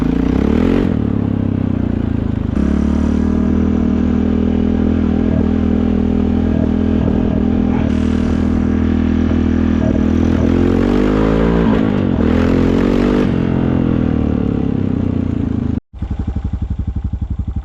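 A Honda engine fitted with nitrous, running rich, idles and revs with a loud, rough, steady drone and uneven sputtering throughout, briefly cutting out near the end before resuming.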